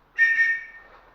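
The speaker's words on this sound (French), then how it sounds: "Avec le petit sifflet aussi." A small whistle on a boating safety vest blown once, a short, shrill, close blast that tails off quickly into quiet.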